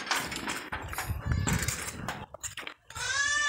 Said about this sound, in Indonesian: Ini kambing-kambing saatnya pulang masuk ke dalam kandang.